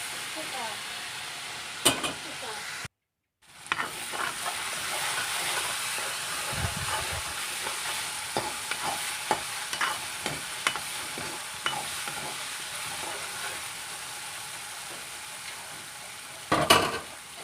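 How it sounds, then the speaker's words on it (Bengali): Spices sizzling and being stirred in a pan for a fish-head and eggplant curry: a continuous frying hiss with frequent scrapes and clicks, one brief dropout early on, and no voices. "এখন মশলাগুলো কষাতে থাকবো যাতে মশলাগুলো কাঁচা গন্ধটা চলে যায়"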